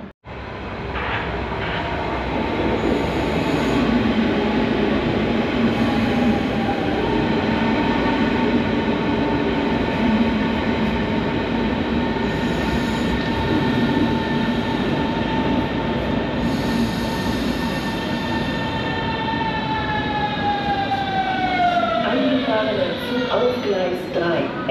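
A Berlin S-Bahn S7 train to Potsdam Hauptbahnhof pulls into platform 11. A loud, sustained rumble carries whining motor tones that slide downward as the train brakes over about twenty-five seconds, with intermittent public-address speech in the station.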